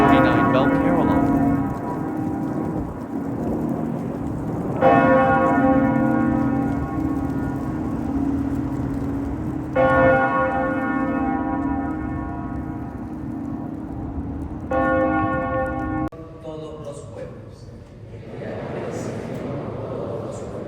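Church tower bells in Dallas, Texas ring out in slow, evenly spaced strikes about five seconds apart, each tone lingering and overlapping over a steady background hum.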